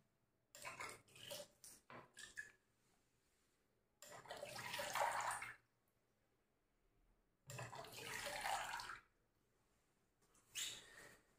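Automatic single-nozzle panipuri water filling machine dispensing water in set doses, with two longer splashing pours separated by silence and shorter clinks and taps of cups and handling around them, close and fairly loud.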